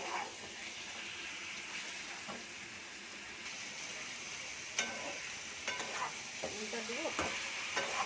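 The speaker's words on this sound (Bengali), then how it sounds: "জল বেরিয়ে মশলার সাথে দিয়ে পেঁয়াজ আর রসুন মশলাটা মাংসটা আমি একটু কষে নেব।" Chicken pieces fry in a pan with spices, onion and garlic for biryani. A steady close sizzle runs under repeated scraping stirs of the spoon, with a few words spoken briefly.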